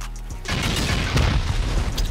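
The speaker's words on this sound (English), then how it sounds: "I'm honestly gonna send some rockets in here" Rockets slam into an armored base in a video game, one deep boom after a brief low hum, followed by a dense roar of blasts and debris that stays loud and close.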